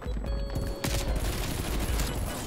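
Pistol fire in a Call of Duty match rings out in a quick burst of sharp shots over busy game ambience and music, with a strong crack partway through and continued battle noise after.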